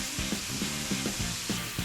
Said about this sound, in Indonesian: Emak teh mau mulai numis ini.